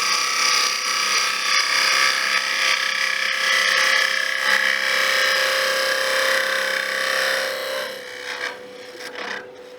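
Steady rasping scrape of a scraper hollowing the inside of a turned wooden box on a lathe, continuous and close, easing off in the last couple of seconds.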